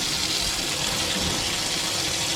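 A boat's recirculation pump pushes water in a steady, close rushing gush that runs continuously without a break.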